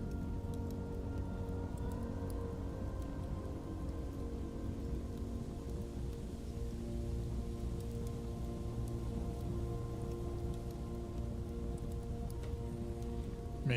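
Rain falls steadily in the video game Blue Prince, a constant hiss of drops on surfaces under soft, sustained tones, with no one talking.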